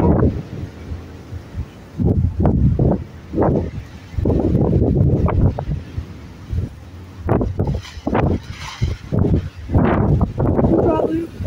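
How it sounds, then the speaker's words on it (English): Strong gusts in a wind storm buffet the microphone in repeated loud, rumbling bursts separated by quieter lulls. "Big gust of wind again."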